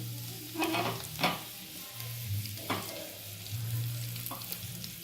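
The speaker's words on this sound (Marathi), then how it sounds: "आणि नंतर आपण लसूण टाकणार आहेत चॉप करून घेतलेला लसूण छान असा सोनेरी होऊ द्यायचे आणि तडका मिरची पण टाकायची" Chopped garlic and chili frying in ghee as a tadka for a moong-chana dal and methi dish, a steady low sizzle with a few stirring scrapes of the pan.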